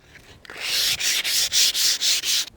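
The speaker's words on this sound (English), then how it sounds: "I've now sanded it all over with the 120 sandpaper" Hand-sanding a wooden garden swing with 120-grit sandpaper: a run of rough, hissing scrubbing strokes in quick steady rhythm, about six passes, close and fairly loud with brief gaps between them.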